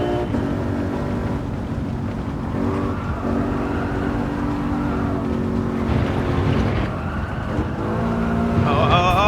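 Race car lapping the Miyabi circuit in Kyoto in Gran Turismo 7, engine droning steadily and loud throughout with shifting pitch and rising whine near the end, no talk over it.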